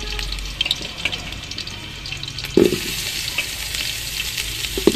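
Potatoes fry in hot mustard oil, a continuous close crackling sizzle broken by a few sharper pops and clinks of stirring.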